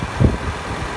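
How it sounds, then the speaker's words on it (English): A 2015 Range Rover Supercharged sits at idle, its engine giving a steady low rumble with a brief swell in the first half before settling into an even hum. "Very powerful engine."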